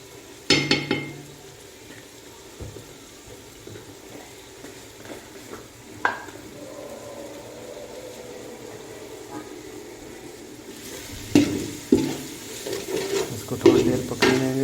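Carrot vegetable masala with turmeric cooking in a pan: a soft sizzle runs beneath scattered spoon scrapes and metallic clinks, and the stirring grows louder and busier toward the end.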